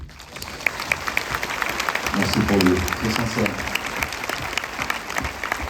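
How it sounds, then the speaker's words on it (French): A cinema audience at a preview screening applauds the film's director with dense, sustained clapping, while someone speaks briefly near the microphone over it. "Voilà, on peut l'applaudir."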